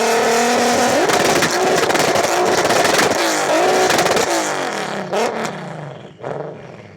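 Turbocharged inline-four and VR6 engines, an AWD R30 VW Golf and a 4x4 Vauxhall VXR Nova, revving loudly in repeated rising and falling bursts, close by, ending with sharp blips and a brief fading tail.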